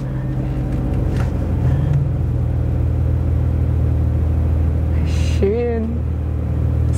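A Porsche 911 Dakar climbs a slope in a stone quarry, its engine a steady loud low rumble throughout, with people talking briefly over it.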